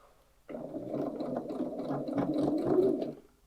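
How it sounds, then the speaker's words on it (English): A sewing machine runs a quick burst of stitching through many layers of fabric for a tote bag, its needle whirring and chattering close and steady for about three seconds, then stopping. "So let's quickly sew around there."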